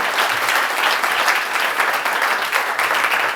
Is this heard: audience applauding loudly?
yes